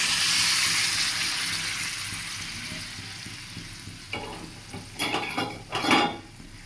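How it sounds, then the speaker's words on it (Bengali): Hot water poured slowly into soybean curry frying in a pan, a broad hiss that fades, then bursts of sizzling and bubbling with a few utensil clinks toward the end. "গরম জলটা আস্তে করে এর মধ্যে ঢেলে দেবো"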